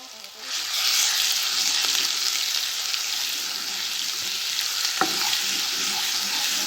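Garlic ginger paste fries in cooking oil in a kadai, a dense continuous sizzle heard up close, with a light knock of a utensil partway through.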